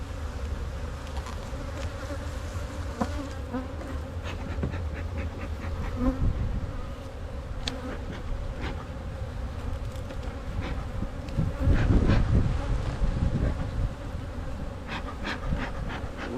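Honey bees buzzing thickly around an opened hive colony, a dense steady drone close to the listener throughout, with brief knocks and frame handling noises.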